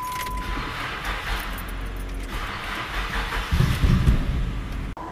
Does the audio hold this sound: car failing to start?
yes